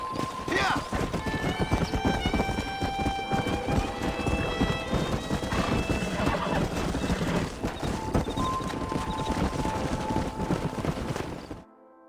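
Horses gallop and neigh while a herd is driven through a storm in the video game Red Dead Redemption, with busy hoofbeats, several loud whinnies and voices over the top.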